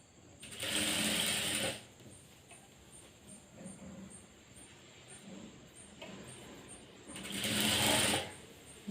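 A sewing machine stitches piping onto a blouse in two short, steady bursts, one near the start and one near the end, with a quiet pause between them and no talking.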